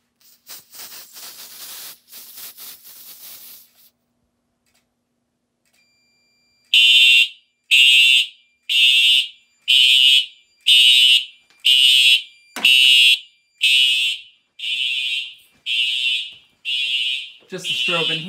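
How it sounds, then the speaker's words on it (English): SD355 smoke detector alarming during a smoke test, preceded by a hissing spray of test smoke, then loud shrill beeps repeating at an even rhythm, with a person speaking briefly between them. "I think I'm going to do a smoke test of the SD355."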